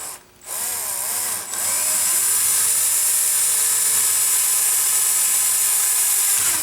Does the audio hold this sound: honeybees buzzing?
no